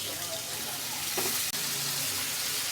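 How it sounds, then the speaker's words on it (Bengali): Browned onions frying in a pan hiss with a steady broadband sizzle as water is poured in, giving a continuous watery crackle with a brief splash-like burst partway through, close and fairly loud with no talking. "পেঁয়াজগুলো আমার বাদামি কালার করে ভাজা হয়ে গেছে এখন আমি একটু পানি দিয়ে দিব"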